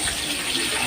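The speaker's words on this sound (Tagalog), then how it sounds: "And it's boiling there" Steady bubbling and hissing from a pot of mung beans boiling with onion, a continuous, close, watery rush with no pauses.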